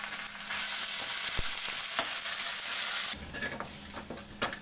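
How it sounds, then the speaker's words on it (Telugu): Ginger and shallot paste fries in a pan with a steady, fairly loud sizzle and a few stirring scrapes; the hiss drops in intensity partway through as more paste goes in. "ఇలాగ ఫ్రై అయిన తర్వాత ఇంకో కొంచెం అల్లం చిన్నిపాయ పేస్ట్ వేస్తున్నాను."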